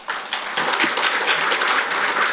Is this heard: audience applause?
yes